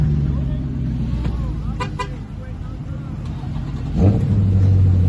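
A Dodge Hellcat nicknamed Jailbreak at a car meet, a deep engine burbling under crowd chatter, rising into a louder rev near the end; people talk over it.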